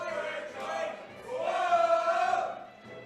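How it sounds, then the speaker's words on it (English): Tournament crowd at a Super Smash Bros match screaming and cheering in a sustained roar, swelling louder midway before easing off. "The crowd is screaming."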